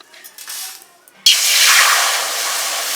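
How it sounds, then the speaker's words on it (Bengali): Water poured into a hot kadai in a home kitchen making churmur erupts into a loud, sudden hiss. After quiet handling sounds, the hiss sustains as a broad, steady sizzle that eases only slightly. "এবার কড়াইতে জল দিয়ে দিলাম"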